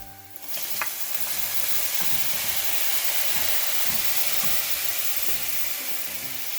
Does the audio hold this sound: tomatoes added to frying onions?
yes